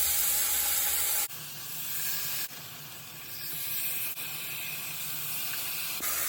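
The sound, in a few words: spam slices sizzling in sugary marinade in a hot pan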